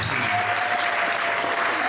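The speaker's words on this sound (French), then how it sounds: "Applaudissez pour la vie" An audience at a priest's 25th-anniversary jubilee celebration breaks into loud, sustained applause, many hands clapping together in an even, continuous roar close to the listener.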